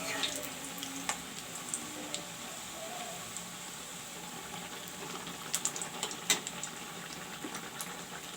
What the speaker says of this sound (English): this way I will fry all the puas